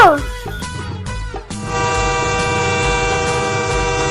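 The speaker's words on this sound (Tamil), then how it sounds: "ஏய் இந்த ட்ரெயின் ஓடுது." A toy smoke train runs close by, sounding loud, sustained electronic horn-like tones that shift after a brief dip and then hold steady over a low rumbling hum.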